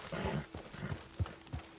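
A horse in Red Dead Redemption 2 gives a quick run of faint hoof clops at an uneven trotting rhythm.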